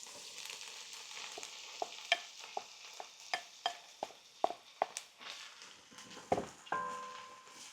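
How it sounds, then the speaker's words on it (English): Champignon mushrooms fry with tofu chunks in a pan, a soft sizzle underneath repeated sharp clicks and scrapes of a utensil stirring against the pan at close range, with no voices. "And your champignon, you really want to fry them up."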